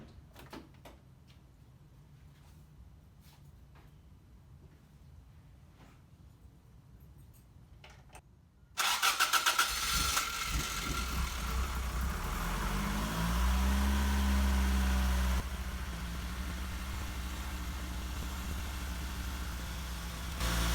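After quiet clicks and movement, a Toyota AE86's engine, fitted with a new header and titanium-wrapped exhaust, abruptly cranks and catches, then settles into a steady, rumbling idle with a rise in revs midway before evening out.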